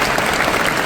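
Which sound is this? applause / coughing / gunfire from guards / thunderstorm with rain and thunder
applause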